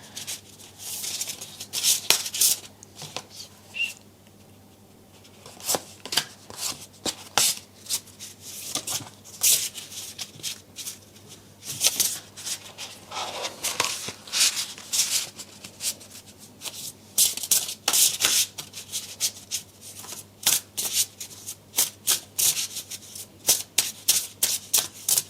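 Tarot cards shuffled by hand in a repeated riffling, rubbing rhythm, close and fairly loud, with brief pauses between bursts of shuffling and no talking.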